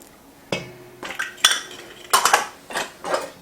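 Brown sugar, cinnamon, ground ginger, allspice and salt get mixed in a bowl, with a handful of distinct clinks and scrapes of a metal utensil against the bowl in irregular bursts, close and fairly quiet.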